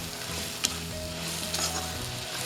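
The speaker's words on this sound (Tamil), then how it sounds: "நல்லா வதக்கிடலாம்." Onions stirred and frying in a pan for a Kerala-style prawn biryani, a steady close sizzle with a few spoon scrapes and clinks across the whole stretch, no talking.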